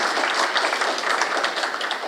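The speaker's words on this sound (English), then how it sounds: "We have a round of applause." An audience at a school community forum applauds steadily, a dense wash of clapping from many hands that holds throughout the short stretch.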